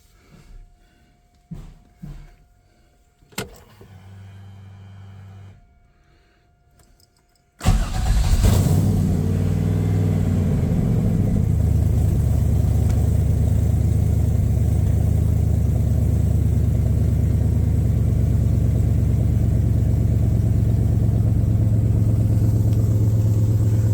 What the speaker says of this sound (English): let's do a cold start on this 64 Restomod.